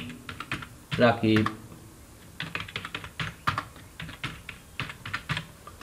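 Fingers tap a computer keyboard in quick irregular bursts of clicky keystrokes, close and fairly quiet, with someone briefly speaking near the start.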